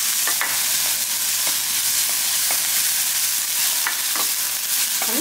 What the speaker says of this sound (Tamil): பெரிய வெங்காயமாக 1 வெங்காயம் எடுத்து நல்லா போட்டு எண்ணெய் இதோடையே போட்டு நல்லா வதக்கிக்கலாம்